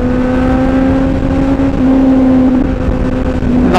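A Kawasaki Z900 inline-four motorcycle engine runs loud and steady on an expressway, a sustained high-pitched engine whine holding throughout with a brief surge near the end.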